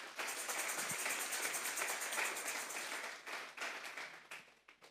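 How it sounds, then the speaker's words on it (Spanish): A church congregation applauds steadily during a sermon, a dense wash of many hands clapping that holds level and then thins out toward the end. "Vamos a darle un fuerte aplauso al Señor."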